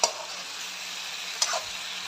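Chicken pieces fry under a lid in a covered pan, a steady muffled sizzle with two brief clicks of the lid or utensil near the start and middle.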